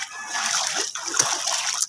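Someone wades on foot through rising floodwater on the way to work, producing close, continuous sloshing and splashing with a few sharper splashes.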